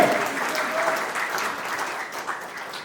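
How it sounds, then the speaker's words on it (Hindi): Audience at a political speech in India applauding, a steady, dense wash of many hands clapping at moderate loudness for a few seconds without a break. "तो तालियां तो बजा दीजिए करिए"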